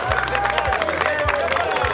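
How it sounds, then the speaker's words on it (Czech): Spectators at a veterans' volunteer firefighter beer relay contest clap and cheer in a brief, dense burst of applause. The crowd noise is lively and close. "To zaslouží zatleskat."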